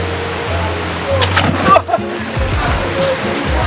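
People splash and slosh in shallow water outdoors, with a steady rush of moving water throughout and a louder splash midway, while voices talk and call out.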